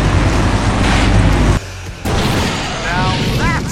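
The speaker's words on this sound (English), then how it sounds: "Now that's an explosion, ladies and gentlemen." A cartoon explosion roars as a loud, dense blast that cuts off abruptly, then gives way to a settling rumble with a few short whistling tones near the end.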